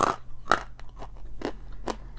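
Loud, close crunching bites into hard edible chalk, a series of four or five sharp crackling crunches spaced about half a second apart with softer chewing between them, no talking.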